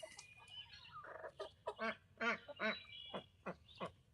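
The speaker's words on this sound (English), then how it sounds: "There's a young rooster." Chickens and a young rooster clucking and squawking in a backyard coop, a quick run of short, choppy calls at close range with no talk over them.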